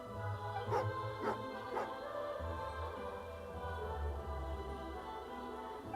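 A dog in a video game gives a few short barks or yips early on, three quick bursts about half a second apart, followed by soft game ambience and music.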